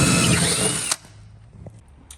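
A loud power drill bores wider holes for toggle bolts through a wooden vanity cabinet during a floating vanity install, running steadily for about a second before cutting off, followed by faint handling clicks.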